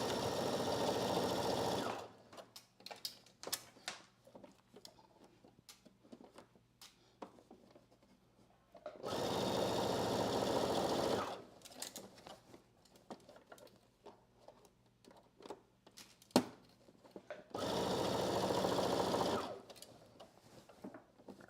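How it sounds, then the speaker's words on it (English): A home sewing machine back stitches the underarm seam of a basic dress, running in three steady whirring bursts of a couple of seconds each, separated by quiet gaps with small handling taps. "I am going to back stitch at the beginning, which is that underarm seam."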